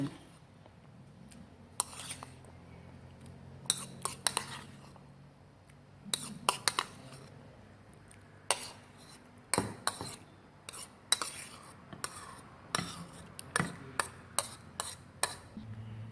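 Clinks and scrapes of a utensil against cups as boiled potatoes are portioned out evenly in a kitchen, with scattered sharp taps and light rubbing in irregular bursts, close and fairly soft, no talking.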